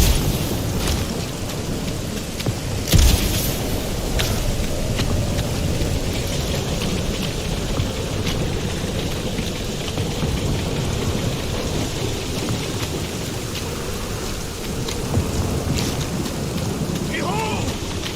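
Storm in the video game Marvel's Guardians of the Galaxy: steady heavy rain with a constant dense hiss, broken by a sharp crack of thunder early on and distant rumbles, with faint voices at times beneath the downpour.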